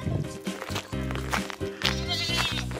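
Goats bleating on a farm, several loud, close, wavering bleats in quick succession, with a person talking in Dutch among them.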